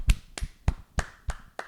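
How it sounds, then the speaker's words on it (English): A small group clapping at an award announcement, six distinct slow claps about a third of a second apart, close and fairly loud. "I don't know if the claps are going to show."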